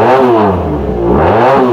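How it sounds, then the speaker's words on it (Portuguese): A Honda CB450 two-cylinder motorcycle engine revs loudly up close, its pitch dipping and climbing again in one smooth throttle swell, alone without talk. "vocês já ouviram falar na Honda CB450? CB450 é uma moto da Honda que muita gente fala que ela tem ronco de 4 cilindros."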